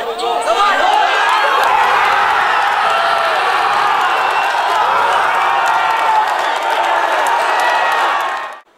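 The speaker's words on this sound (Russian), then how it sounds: "Толпа беснующихся фанатов взорвалась во второй раз" Football fans packed into a city square roar and cheer in a sustained, dense crowd eruption with clapping and shouting, loud and continuous for several seconds before cutting off abruptly.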